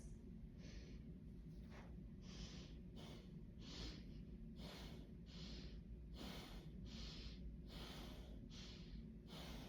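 Slow, deliberate breaths during a diaphragmatic breathing demonstration, several soft airy inhales and exhales repeating in a steady rhythm at close range over a constant low background hum.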